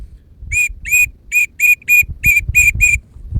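A handmade teal duck call blown in a quick series of about nine short, high, trilling whistle notes, close and clear over faint background noise.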